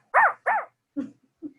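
A person imitating a dog barking: two loud, close barks, then two softer, shorter barks trailing off, with silence between them.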